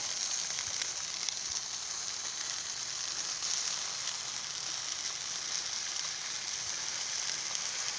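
Pork ribs sizzle in a pan of sauce while being basted for a Fourth of July cookout, giving a steady, even crackling hiss that holds at moderate loudness throughout with no talking.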